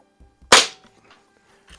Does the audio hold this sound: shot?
yes